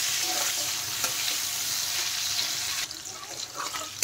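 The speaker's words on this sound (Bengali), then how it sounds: "বেশি ভাজার দরকার নেই, হালকা ভাজলেই হবে, যাতে ক্যাপসিকামের কাঁচা গন্ধটা চলে যায়।" Capsicum fries lightly in a pan with a steady, close sizzle and occasional stirring scrapes, heard alone without talk.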